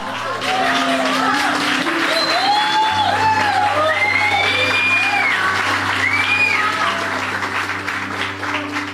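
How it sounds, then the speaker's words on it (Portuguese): A church congregation rising to applaud and shout in victory, a dense wave of clapping mixed with whoops and cheers, loud and sustained, with organ or keyboard chords held underneath and voices calling out. "se levante, dê um aplauso e dê um brado de vitória"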